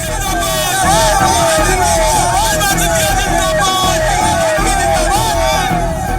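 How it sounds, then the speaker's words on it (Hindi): A large crowd at a political road show in the Gwalior-Chambal region, with dense babble, whoops and shouts. The noise stays loud and continuous, with high tones wavering above the din. "उसमें उमड़ी भीड़ ने साबित कर दिया कि सिंधिया की इस इलाके में आज भी फैट है, दबदबा है।"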